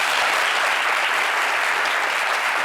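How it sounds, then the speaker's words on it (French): Studio audience applauding during a French television show, dense sustained clapping that fills the room steadily from start to finish, loud and close with no voices over it. "Franchement, on peut l'applaudir encore une fois."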